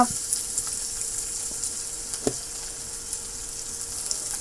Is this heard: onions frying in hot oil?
yes